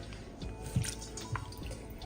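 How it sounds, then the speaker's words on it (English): Homemade butter wrapped in cloth is pressed around in a bowl of water, giving soft, quiet drips and squishy liquid sounds with a couple of slightly louder splashes, close by and without talk. "I'm just going to sort of press the butter while it's still in the cloth around in the water."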